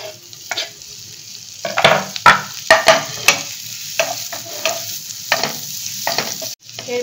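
Garlic and green chilies frying together in butter in a pan, a gentle sizzle under repeated sharp spatula scrapes and stirs, close, with a louder cluster of strokes in the middle.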